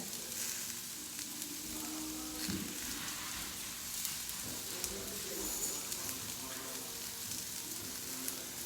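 Onions frying in a pan for shrimp fajita bowls give off a steady, close sizzle with faint crackles throughout, and a few light stirring knocks come through near the middle.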